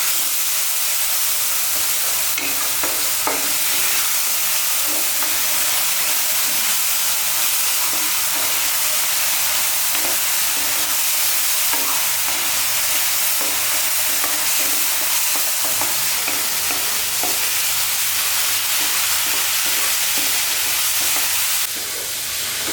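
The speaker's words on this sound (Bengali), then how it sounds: "আর এবার আমরা মশলাটাকে ভালো করে কষাবো।" Spice paste for a rohu fish and cauliflower curry stir-fried in oil in a pan, a steady loud sizzle with frequent scraping stir strokes throughout, no voices.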